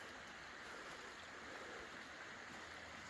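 Creek swollen by rain flowing along the Butterfield Trail in Devil's Den State Park, a steady broadband rush of running water at close range, with no voices and no change over the few seconds.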